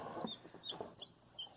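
Baby Bantam assortment chicks with feathered feet give faint, high, short peeping chirps, several scattered quickly over a moment, quiet and close.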